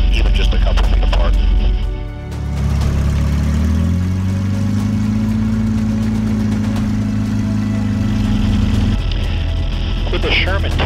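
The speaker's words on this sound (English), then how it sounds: "when this thing starts going, that engine really is thumping" An M4A3 Sherman tank's heavy engine thumps loudly up close, revving to a higher steady pitch, holding there, then dropping back to a deep rumbling idle.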